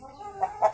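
A Rhode Island Red hen gives two short, soft clucks close by against a quiet background.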